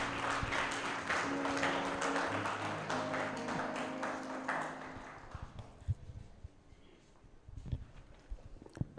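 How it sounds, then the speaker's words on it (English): An audience applauds with a dense burst of clapping that fades away after several seconds, followed by scattered taps and a quiet room. "Let's give him a nice round of applause"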